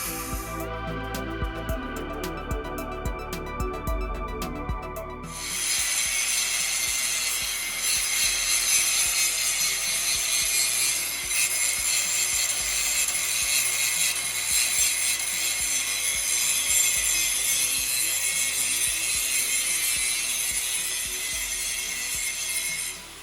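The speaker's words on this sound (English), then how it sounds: "I'll go back with a flat grinder and grind all that with a flat disc" Flat disc grinder working steel Mustang adjustable lower control arm brackets, a loud continuous abrasive whine and grinding that follows a short stretch of ratcheting, rattling mechanical noise, steady and close without talk.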